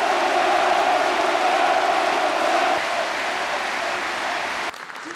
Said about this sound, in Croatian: Svi ostali uzvanici nagrađeni su pljeskom